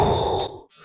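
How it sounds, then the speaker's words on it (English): A person exhales in a close, steady breath onto a bathroom humidistat, holding for about half a second before it trails off into near silence. "I'm going to breathe on this"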